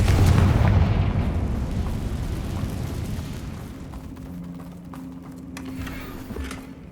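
Confringo fire spell explosion in Hogwarts Legacy: a heavy booming blast at the start that decays into rumbling debris, followed by scattered crackles, pops and a faint low hum.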